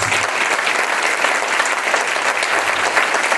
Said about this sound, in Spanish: Fuerte, dale el aplauso a Jesús